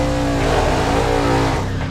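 A race car during a timed weight-reduction test run roars loudly and steadily at high revs, a dense continuous engine note close by with no voices.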